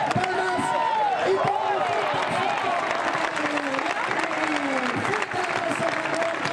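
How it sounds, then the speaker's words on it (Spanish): Crowd clapping and applause at an outdoor event in Buitrago del Lozoya, a steady wash of many hands with whistle-like tones and voices mixed in throughout. "Palmas, palmas."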